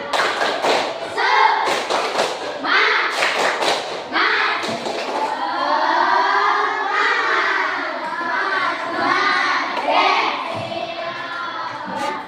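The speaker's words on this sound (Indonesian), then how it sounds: "Coba kita tepuk semangat ya" Elementary schoolchildren in a fifth-grade class perform a rhythmic spirit clap, sharp bursts of hand claps and thuds marking the beat while young voices chant along loudly throughout.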